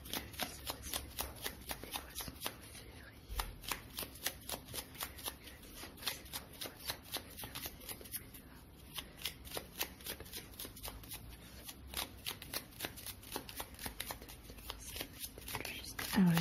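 Tarot cards riffle and shuffle in a steady, close, crisp rhythm of rapid flicks that runs throughout, with a soft voice faintly present underneath.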